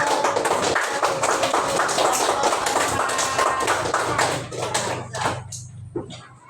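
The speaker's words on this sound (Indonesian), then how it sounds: "Tepuk tangan" Children in a primary classroom clap their hands together in a dense, steady burst of applause that holds for several seconds, then thins out and fades.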